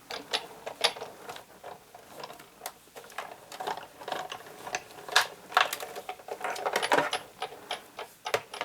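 A Big Shot embossing machine cranking a 3D embossing folder and plate through on its regular platform gives a steady run of close mechanical clicks and ratcheting ticks, with the grinding growing busier toward the end.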